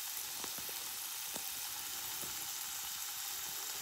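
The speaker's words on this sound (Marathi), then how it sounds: "हे थोडंसं मी फ्राय करून घेते" A spice mixture for batata vada frying in a pan, a steady close hiss and sizzle with a few small pops and crackles, no talking.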